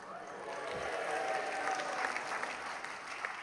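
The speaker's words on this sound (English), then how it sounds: "Round of applause for the set before we've even started putting anyone on it." A studio audience claps for a festive year-in-review set, a steady wash of applause held at moderate level for the few seconds.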